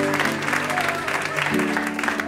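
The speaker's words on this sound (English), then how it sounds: "Keep clapping." Audience applause on a variety show stage, steady clapping running throughout the short clip beneath a speaking voice.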